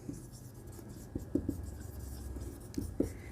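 A capital account being written on a board during an accounts class, with soft scratchy marker or chalk strokes and a few light taps, close and quiet, no talking.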